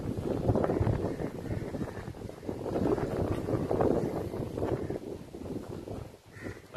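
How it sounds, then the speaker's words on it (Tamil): Strong sea wind at the coast, a gusty, rushing blow buffeting close and loud, swelling and easing in waves with no voices. "நல்லா காத்தடிக்குது, சூப்பரா இருக்கு"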